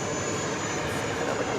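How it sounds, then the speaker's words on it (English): An Aeromexico Boeing Dreamliner being pushed back at New York's JFK airport, a steady broadband engine whine with a high tonal hum, continuous and moderately distant throughout. "they're pushing back an Aeromexico Dreamliner"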